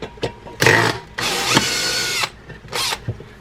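Power drill backing screws out of a homemade birdhouse built from a coffee can and scrap wood, heard as several close, loud whirring bursts of uneven length with short pauses between them.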